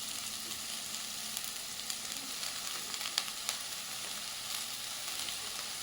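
Washed green chickpea leaves fry in a pan, giving a dense, continuous sizzle with scattered crackles and small pops, close and steady, with no voices.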